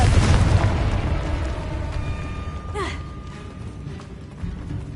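Confringo spell blast in Hogwarts Legacy: a heavy boom opens with a rumbling tail, followed by a whooshing magical swoop and lighter mechanical clatter in the game scene.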